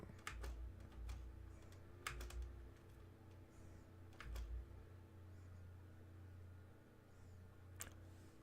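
A computer keyboard clatters loudly during a Minecraft session, with brisk bursts of key presses and several sharper strikes over a faint fan hum, with no talking.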